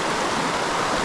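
Water rushes down a small waterfall at a river fishing spot, forming a constant, close, full-bodied roar of white noise with no breaks and no voices.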